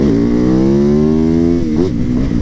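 Yamaha MT-09 or MT-10 motorcycle engine revving loudly up close, a steady rising roar that holds for over a second and a half, then drops briefly before picking up again.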